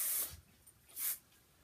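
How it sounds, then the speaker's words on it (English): Two short hissing bursts of aerosol hair spray, close by, separated by a brief quiet pause. "just touch her up with a little bit of spray."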